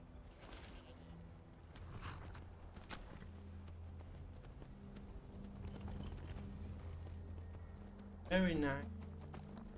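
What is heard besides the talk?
horse hooves clip-clopping in Skyrim video game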